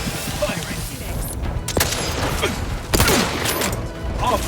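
Gunfire in The Outer Worlds 2, with sharp shots and a short burst cracking out amid mechanical clatter and a dense, noisy combat background.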